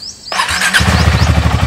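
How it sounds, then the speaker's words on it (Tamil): A motorcycle engine starts with a brief squeal and settles into a close, loud, steady idle as it warms up. "பைக்கை கொஞ்சம் லைட்டாக வார்ம் அப் பண்ணிட்டு கிளம்ப வேண்டியதுதான்"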